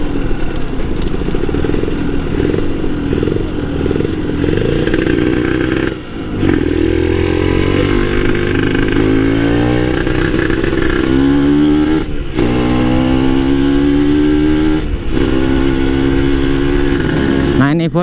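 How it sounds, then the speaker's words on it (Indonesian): A Kawasaki Ninja RR two-stroke motorcycle heads downhill, its loud, close engine sweeping through pitch changes as it drops gears and brakes on the engine, with brief dips at each shift and wind noise. "gua pakai motor ini, downshift, turun gigi, engine brake."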